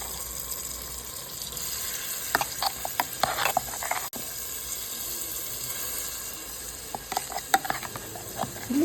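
Ground masala sizzles in hot coconut oil in a pan for a coastal-style pulimunji fish curry, a steady hiss broken by scattered scraping and stirring clatter.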